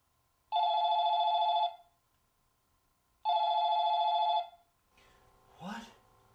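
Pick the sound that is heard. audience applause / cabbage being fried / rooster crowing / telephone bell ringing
telephone bell ringing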